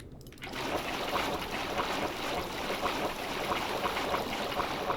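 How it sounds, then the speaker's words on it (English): Repeated water bucket placement in the Minecraft video game, heard as a steady rushing, splashing water flow that starts after a brief quiet moment and continues evenly and fairly loud throughout. "You can just spam the water bucket a ton."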